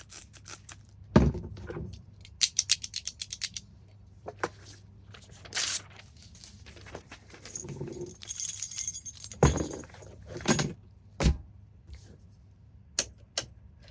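A bunch of keys jangles in a few short, close metallic bursts, set between clicks, rustles and other handled household objects in a quiet room.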